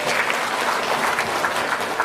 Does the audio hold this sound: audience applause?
yes